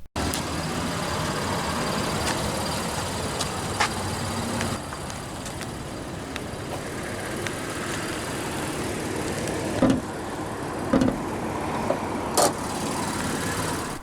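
A 2023 Honda Ridgeline pickup's 3.5-liter naturally aspirated V6 idles steadily and evenly throughout, a low continuous rumble with a few faint clicks and taps near the end.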